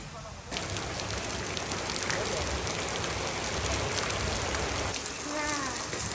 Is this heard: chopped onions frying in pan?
no